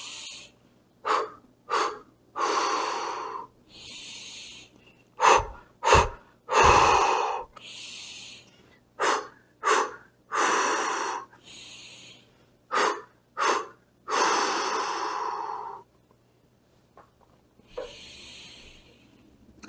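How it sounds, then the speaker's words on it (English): Deep breathing exercise, a series of about fourteen slow, loud breaths in and out close to the mic, each a breathy hiss with short pauses between them, some sharper quick inhales in the middle, no speech. "Deep breath."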